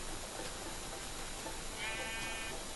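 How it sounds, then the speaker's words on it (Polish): A sheep in the video game Minecraft gives one wavering bleat near the end, heard over a steady noisy background with no talk. "Nie uciekaj, owieczko."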